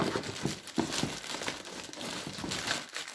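Crinkling plastic packaging around a new pair of Crocs-style slippers, unwrapped with scissors at hand, rustles and crackles in repeated bursts close by, with no talk over it.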